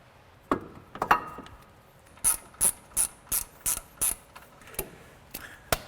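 A ratchet tightens brake caliper bolts on a 1990s Chevy Blazer/Tahoe or OBS truck, first with a few scattered clicks, then a run of six crisp, evenly spaced ratcheting strokes close up in a quiet garage.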